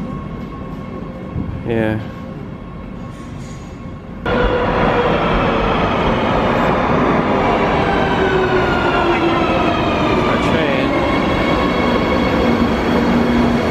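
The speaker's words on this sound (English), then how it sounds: "I think we just missed the train." A train rumbles loudly with squealing, whining tones rising over the roar as it pulls away; a voice speaks briefly near the start.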